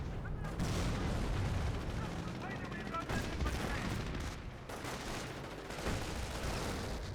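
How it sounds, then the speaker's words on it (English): Rifle and machine-gun fire crackle on a Company of Heroes battlefield amid distant explosions and a thick rumble of combat, while a commentator talks throughout. "Taking rifle fire!"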